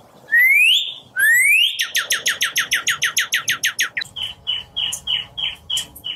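A person whistles an imitation of a cardinal's song: two loud rising slurred notes, then a quick run of about a dozen repeated chirping phrases, then a slower series of clipped whistled notes.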